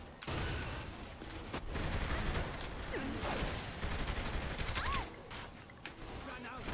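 Rapid bursts of gunfire in the video game Saints Row: The Third, a dense fusillade of shots and automatic fire running loud and continuous, with game sounds and faint voices mixed in.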